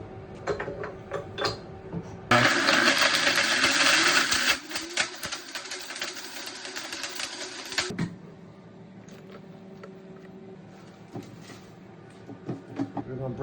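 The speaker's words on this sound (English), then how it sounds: "If you got a Vitamix blender, they break stuff down like this real easy." A Vitamix blender grinds herbs in a short loud whirring burst that drops to a lower churning hum before cutting off, with clattering handling noises before and after.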